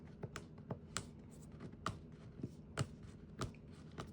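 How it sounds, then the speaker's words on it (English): Cardboard packaging of a Samsung Z Fold 7 box, the 512 model in blue shadow, gets picked and pulled open in a series of sharp, scattered taps and small tearing snaps, close up and fairly quiet with no talking. "let's go ahead and rip this open"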